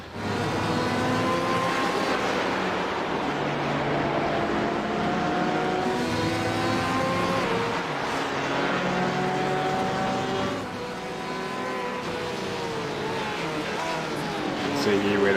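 Simulated Porsche and GT race car engines roar steadily and loudly together in an iRacing endurance race, their pitches shifting as the Porsche closes up behind the GT through curvy sections, with no break in the drone.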